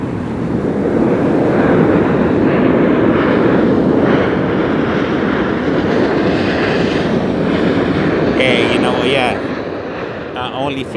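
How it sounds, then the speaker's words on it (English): A United airliner taking off at Las Vegas Harry Reid International Airport, a loud sustained jet engine roar heard from nearby and fading slightly toward the end. "up next we got United Aerolíneas hitting the skies"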